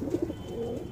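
Madrasi Punjabi pigeons coo in a soft, low, continuous murmur close by, with no voices.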